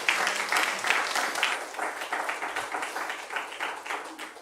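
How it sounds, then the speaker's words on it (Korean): A church congregation applauds for its youth group during a Sunday service, a steady round of clapping with a dense patter of many hands that swells early and then gently fades over a few seconds. "우리 청년부를 위해서 박수 한 번만 주실까요?"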